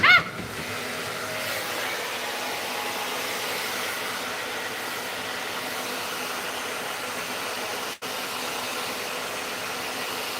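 Steady broadband whoosh of a hair dryer fitted with a diffuser, blowing continuously on wavy hair at close range with only a brief dip near the end and no talking.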